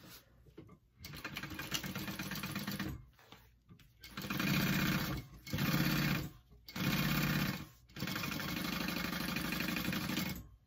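Sewing machine basting the lining of a handbag, running in several loud, steady bursts separated by short pauses, with no talking.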